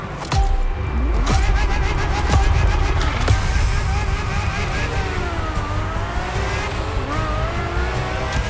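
A Ferrari F50 engine in the racing game The Crew Motorfest roars steadily as the revs rise and fall with gear changes. A voice talks over it throughout.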